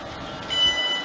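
Class 360 electric multiple unit train in ex-Heathrow Connect livery at a station, a steady close rumble of the passing train rising briefly, with no talk.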